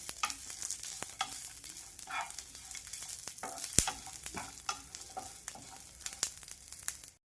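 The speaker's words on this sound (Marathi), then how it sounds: "जिरं सांगायची विसरली होती ते पण टाकून घ्यायचे तर आणि पुन्हा दोन मिनिट हे भाजून घेऊया" Cumin and chutney ingredients dry roasting in a pan for a traditional Maharashtrian chutney, with steady stirring scrapes and a soft continuous sizzle, close and alone without speech.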